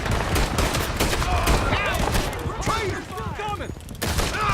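Rapid gunfire crackles in a Red Dead Redemption 2 shootout, dense bursts of shots rattling throughout, mixed with shouted voices calling out over the firefight.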